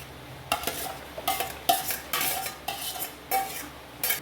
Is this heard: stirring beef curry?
yes